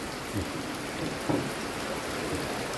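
Steady rain falls outdoors in late October, a dense even hiss of drops on surfaces, close and continuous with a few slightly louder patters, and no voices.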